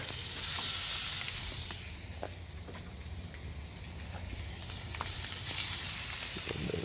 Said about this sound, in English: The pan is absolutely sizzling. I'm going to do that with each piece. Drop it down.